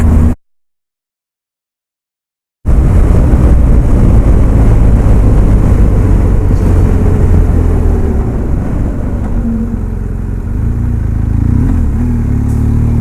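A truck rumbles past on a road on a frosty morning during a motorcycle ride to Falmouth. The loud, broad engine and road roar swells and then slowly fades, heard alone after a brief silent gap.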